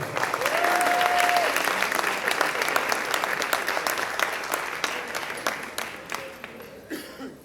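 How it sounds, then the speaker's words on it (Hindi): Warm audience applause greeting a poet at a Lahore poetry gathering, a loud, dense wash of clapping that gradually thins toward the end, with a cough or two in the crowd. "आपकी भरपूर तालियों में"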